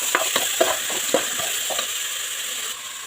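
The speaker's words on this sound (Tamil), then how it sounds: "மொச்சக்கொட்டையை சேர்த்து கலந்து விட்டுருவோம்." A brinjal kuzhambu in a pan, with washed mochai beans just added, being stirred: a run of soft scraping strokes over a low, steady sizzle, close by, with no one talking.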